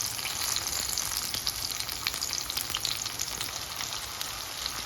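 Garlic, onion and chili fry in olive oil with a close, steady crackling sizzle and dense popping. The frying runs continuously at even intensity, and no one speaks over it.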